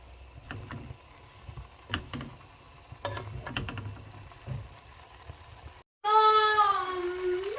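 A spoon stirs stir-fried pancit canton noodles with carrots and beans in a pan, making quiet scraping and clacking strokes with a faint sizzle before music abruptly takes over.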